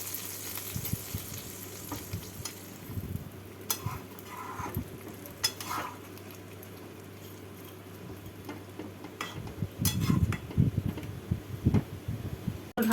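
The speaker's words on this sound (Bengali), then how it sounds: "এবার একটু নেড়ে দিচ্ছি।" Spiced tempering is stirred into rohu fish curry with jhinge and potato in a pan, a soft sizzle under a spoon scraping and clinking against the metal, with stirring growing busier toward the end.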